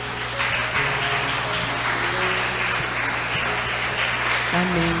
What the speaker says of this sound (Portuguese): Que as palmas louvem ao Senhor, né?